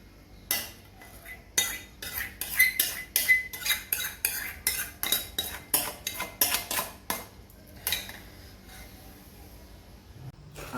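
A spoon stirs mango barfi mixture in a pan, a rapid run of scraping, clinking strokes against the metal that slows and thins out toward the end.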